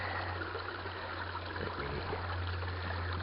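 Water being swirled in a gold pan while prospecting outdoors, a soft continuous sloshing and trickling with a low steady hum behind it, close and fairly quiet.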